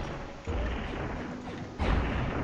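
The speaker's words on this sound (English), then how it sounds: "Walked right into that death explosion." Explosions in the space combat game Space Pirates and Zombies rumble and crackle continuously, with a sharp jump in loudness partway through as a fresh blast hits, dense and close with no speech.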